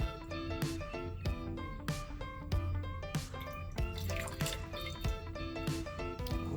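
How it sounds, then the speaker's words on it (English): Water poured onto a shallow plate for a pepper science experiment, heard as continuous soft splashing and dripping with a steady close-up trickle throughout. "I'm gonna pour water right on there."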